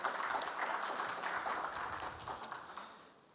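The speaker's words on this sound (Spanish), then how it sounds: "Adelante, por favor, un aplauso." Audience applause at a technical mining-economics conference, a steady wash of many clapping hands that holds at even strength and slowly fades toward the end, with no talk over it.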